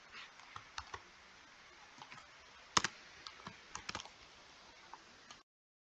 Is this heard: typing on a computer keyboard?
yes